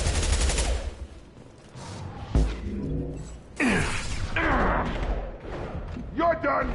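Bursts of gunfire in a Mass Effect firefight, loud, dense volleys under shouted commands and other voices from the game's characters.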